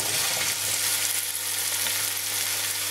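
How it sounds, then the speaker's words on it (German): Diced potato, kohlrabi and onion sweat in hot oil over medium heat, a loud, dense, continuous sizzle heard close up with no voices. "Und diese drei Zutaten schwenken oder schwitzen wir jetzt hier einmal in Öl an"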